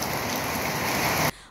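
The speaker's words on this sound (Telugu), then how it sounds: "ఉదయం నుంచి ఉరుములతో కూడిన భారీ వర్షం కురవడంతో ప్రజలు సేద తీరారు." Heavy thunderstorm rain in Kakinada, a dense, loud and even hiss of falling water on surfaces that fills the whole sound before cutting off abruptly.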